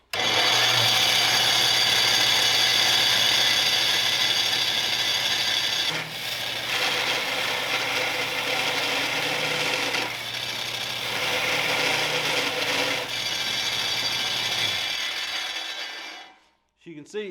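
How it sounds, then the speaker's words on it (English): A loud, continuous abrasive grinding drone from a Harbor Freight 6x48-inch belt sander sanding sheet metal, steady with slight dips in pitch as the motor bogs under pressure, then cutting off abruptly near the end. "As you can see, it is sanding, but if I put any pressure on this, it bogs down."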